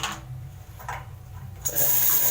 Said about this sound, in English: the water's so strong, man